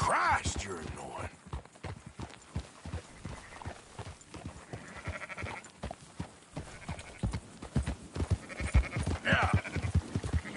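Sheep bleat repeatedly in Red Dead Redemption 2 while a flock is rounded up, mixed with clip-clopping horse hooves and frequent talking throughout.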